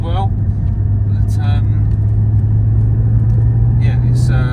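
A Porsche GT4 drives up a mountain road, its engine a steady close rumble that holds through the whole stretch while brief higher noises flick in and out.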